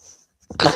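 One sudden human sneeze bursts out after a near-silent pause, loud and close, ending the clip abruptly.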